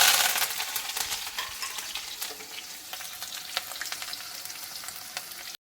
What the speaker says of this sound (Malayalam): ഇനി നമുക്ക് ഇഞ്ചി, വെളുത്തുള്ളി, കറിവേപ്പില ഇതെല്ലാം കൂടി ഇട്ട് കൊടുക്കാം.